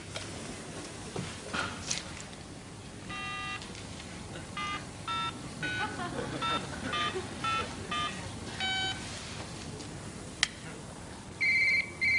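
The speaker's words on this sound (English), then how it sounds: "Joey, I've told you not to phone me at work." Telephone ringing at a workplace in a sitcom scene, repeated electronic ring bursts in an irregular pattern over a steady background murmur.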